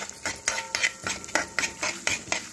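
Dry-roasting curry leaf powder spices in a pan with little oil, a spoon scraping and clinking against the metal in a steady rhythm of repeated strokes, close and clear.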